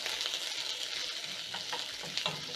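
Onions sizzling steadily in cooking oil left over from frying sausages, with a spatula stirring and scraping through the pan; loud, close and continuous, with no voices.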